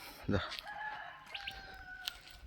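A rooster crows once, clear and fairly near, with a long drawn-out call and a few fainter fowl sounds after it, outdoors at a quarry in hilly country.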